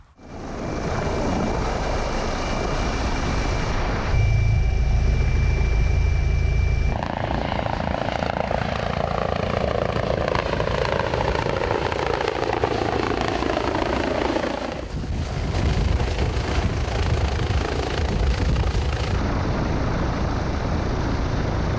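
A hospital emergency medical helicopter roars loudly and continuously throughout, its rotor and engine noise shifting in pitch as it moves, with no voices.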